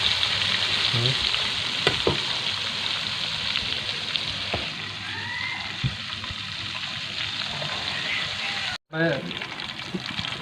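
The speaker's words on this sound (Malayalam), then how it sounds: "അപ്പോൾ ചിക്കനൊക്കെ അതങ്ങനെ പൊരിഞ്ഞ് വരുന്നുണ്ട്." Spicy broast chicken deep-frying in hot oil, a continuous loud sizzle and crackle with occasional knocks and clatter, a voice speaking over the frying.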